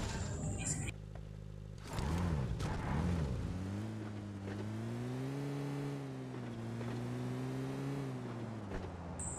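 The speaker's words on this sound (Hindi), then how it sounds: "इसलिए जल्दी से गाड़ी में बैठ के निकल लेते हैं।" Engine of a car in the PUBG Lite video game drones steadily, rising and falling in pitch as it drives off, with game noise and a brief burst of sound at the start.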